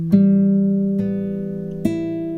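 Three plucked notes of an ascending guitar scale from a Grade 1 exercise, each string struck cleanly and left to ring, evenly spaced and close, with no talking.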